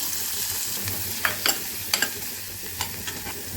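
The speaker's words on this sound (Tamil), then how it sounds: "வெங்காயம் பூண்டு கொஞ்சம் கருவேப்பிலை போட்டுங்க" Onion, garlic and curry leaves fry with fennel in a pan for tomato kurma, making a close, continuous sizzle broken by several sharp scraping clicks from stirring, with no voices.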